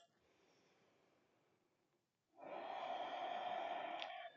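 Deep breathing during a yoga practice: a quieter breath, a short pause, then a long, forceful, airy breath close to the listener, with no one talking.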